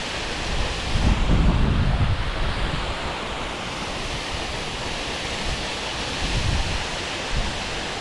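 A waterfall rushes in a rocky gill, a continuous broadband roar of falling water heard close up with heavier low surges and wind buffeting on the microphone.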